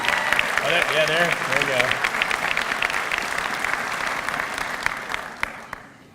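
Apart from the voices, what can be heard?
audience applause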